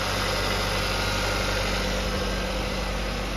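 A 2020 Kia Sportage with a 2.4-liter engine runs during an engine test, a loud, steady mechanical drone with a constant hum and no voices.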